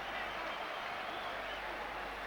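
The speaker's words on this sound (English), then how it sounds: "what a reception from this Albert Hall crowd" Boxing crowd at the Royal Albert Hall applauding after the 1989 McCallum vs Graham fight, a dense, steady wash of clapping and cheering filling the hall without a break.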